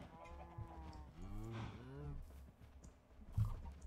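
Cows moo in the video game Minecraft, giving a couple of low, drawn-out bellowing calls close by, with faint game noises between them.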